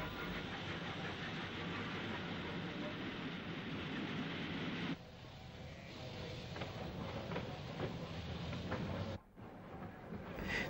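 SG3 0-6-0 steam locomotive on an Irish branch line working a goods train of bread containers up a 1-in-71 gradient: a continuous loud rumble with faint clicking wheel beats, shifting in tone midway, no voices.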